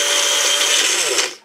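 A drink mixer crushing ice for homemade lemonade, a loud, steady high-pitched whirring grind that runs continuously before winding down at the end, with no talking.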